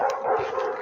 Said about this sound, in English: I can hear other dogs down there